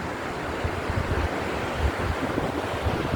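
Ocean waves roll onto the fine-sand beach at Cabo Frio in Rio de Janeiro. The surf roars steadily under gusty wind buffeting the microphone, and no one speaks.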